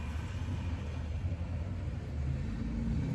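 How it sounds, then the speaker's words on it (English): A passing car rumbles by at moderate distance, a low steady engine drone that swells slightly toward the end, heard alone without talk. "somebody was driving by"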